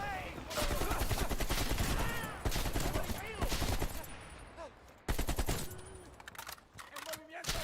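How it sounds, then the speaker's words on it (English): Gunfire rattles through a Call of Duty Black Ops Cold War battle as dense volleys of automatic shots mix with shouting voices, pausing briefly before another loud burst erupts. "They're shooting at us!"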